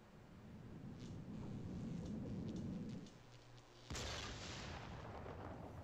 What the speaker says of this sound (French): ça y a juste explosé dans la face puis il est mort